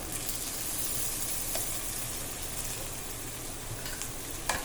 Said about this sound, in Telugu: అది బాగా వేయించేసుకోండి